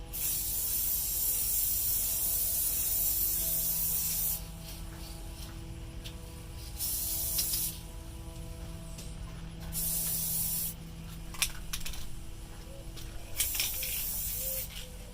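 An aerosol can of Krylon Colormaxx flat crystal clear coat sprays sealer over an acrylic pour painting, a steady close hiss lasting several seconds, then broken into shorter bursts with brief pauses and small rattles.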